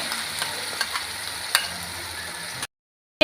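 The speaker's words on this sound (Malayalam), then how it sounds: "ഇതിലേക്ക് നമുക്ക് ഇഞ്ചി പേസ്റ്റും വെളുത്തുള്ളിയുടെ പേസ്റ്റും കൂടെ ചേർത്ത് നന്നായിട്ട് ഒന്നുകൂടെ വഴറ്റിയെടുക്കാവേ" Ginger and garlic paste sautés in a pan while being stirred for a biryani. A dense sizzle carries a few sharp scrapes of the spoon against the pan, then cuts to abrupt silence before a brief return.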